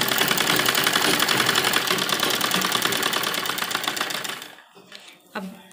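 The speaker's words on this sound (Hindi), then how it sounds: "यहाँ किनारे किनारे पर सिलाई लगाएंगे।" A sewing machine runs steadily, stitching along the edge of a cotton baby dress for a 2–3-year-old, with a fast, even mechanical whir. It stops near the end, leaving a quiet room with a few soft handling sounds.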